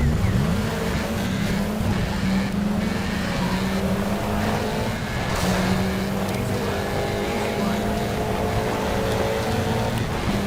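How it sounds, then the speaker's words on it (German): A Mitsubishi rally car engine in Sega Rally drones steadily and loudly, its low growl holding a constant pitch with rising tonal harmonics, accompanied by road and gravel noise, alone without talk. "Mal schauen, wie sich der Mitsubishi fährt."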